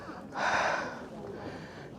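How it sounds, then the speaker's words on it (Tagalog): A single heavy, audible breath, a sharp sniffing exhale of someone winded after walking through Busan, Korea, close and fairly faint, followed by quieter breathing. "Yung paghinga ko damang-dama."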